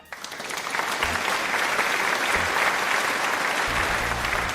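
Applause swells quickly and holds as a steady, dense wash of clapping from an audience, loud and even throughout with no speech over it.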